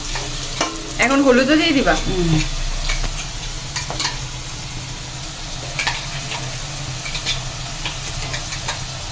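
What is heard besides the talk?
potatoes frying and being stirred in a pan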